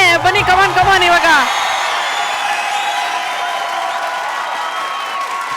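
A studio audience on a Kannada comedy stage show bursts into applause and cheers, loud and sustained for several seconds, with a host's voice and crowd hubbub over the start before the clapping settles into a steady wash.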